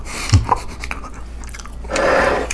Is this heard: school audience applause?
no